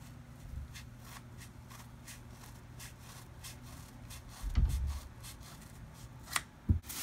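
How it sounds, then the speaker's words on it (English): Scissors snip through old synthetic weave hair just above a ponytail holder, a few crisp cuts and rustling strands close by, with two sharp clicks near the end and no talking. "I'm gonna cut it right above the ponytail holder."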